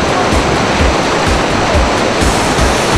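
Whitewater river rapids in Browns Canyon, Colorado, a loud, steady, dense roar of rushing water with no voices.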